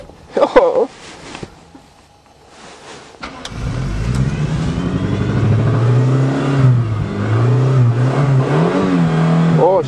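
A Suzuki Swift engine catches on a first start after sitting, then runs and revs up and down steadily for several seconds, loud and close, with a person speaking briefly beforehand.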